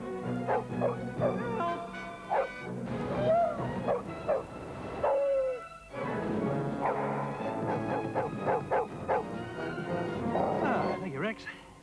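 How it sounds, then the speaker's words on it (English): A dog barks and yips repeatedly in a National Lottery TV advert, mixed with music and voices talking over it, the barks coming in short bursts across the whole stretch. "Rex the Wonder Dog."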